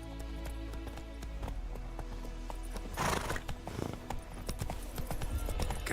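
A horse gallops in The Witcher 3 with rapid hoofbeats and a clear whinny midway, layered over game music, loud and close throughout.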